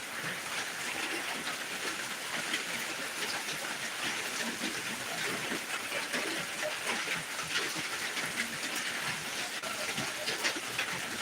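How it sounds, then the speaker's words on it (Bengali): Torrential rain falling in Dinajpur, a continuous broadband hiss and patter at constant loudness for the whole stretch, with no voices and no breaks. "বৃষ্টিটা দেখেন মুসলধারে বৃষ্টি হচ্ছে"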